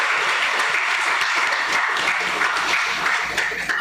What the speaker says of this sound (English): Could we get a round of applause again for these gentlemen?